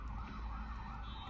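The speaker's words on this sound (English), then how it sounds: "Sorry about the siren." An emergency vehicle siren wails outside, a sustained wavering tone heard through the room at moderate distance with a low rumbling undertone.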